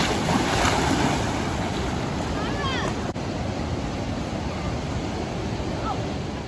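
Steady rushing water at the Agua Azul waterfall fills the scene with a loud, continuous broadband roar close by, with a few faint birdlike chirps over the top.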